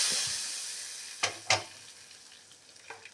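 A hot oil tempering of spices poured into mango tambli gives a soft continuous sizzle, with a couple of brief crackling bursts and stirring clinks, close and fairly quiet, no talking.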